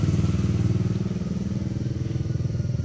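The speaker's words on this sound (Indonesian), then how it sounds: "motor ini seperti tersendat-sendat ya, ngempos, tidak ada tenaga ketika nanjak ya" A carbureted Honda Beat motor scooter engine runs unevenly and sputters, lacking power; a steady, close idle chugs with a rhythmic, slightly stumbling pulse throughout.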